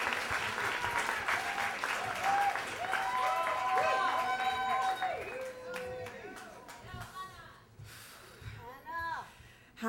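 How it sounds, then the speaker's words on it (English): An audience at a storytelling event in a New York bookstore applauds, with steady clapping mixed with chatter and a few scattered voices, continuing for around ten seconds at moderate distance. "how about a big round of applause?"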